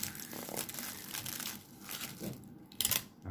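Paper or plastic wrap crinkles and crunches as a pizza-topped hot dog bun is folded up by hand, in short rustling bursts with a sharper crackle near the end, close and fairly quiet.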